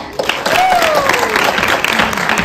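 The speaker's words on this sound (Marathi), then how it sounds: "त्यासाठी नितीन सरांसाठी एक जोरदार टाळ्या" A theatre audience at a stage show in Satara bursts into sustained applause, dense clapping filling the room while a voice speaks over it.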